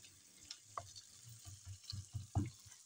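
Sliced onion and garlic fry softly in a pan, with faint sizzling and scattered stirring scrapes and taps close by, fairly quiet.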